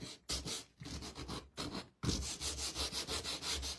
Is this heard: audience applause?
no